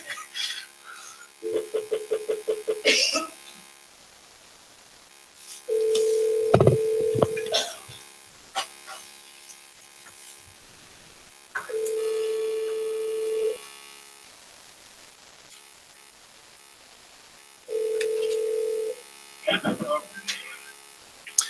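Telephone dialing tones for a call-in to a board meeting: several steady beeping tone bursts separated by pauses, fairly loud in a quiet room, with brief talk between them.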